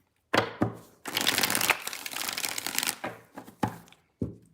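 Cards being riffled and bridged in several quick bursts, one long crisp rattle in the middle, close and fairly loud with no talking.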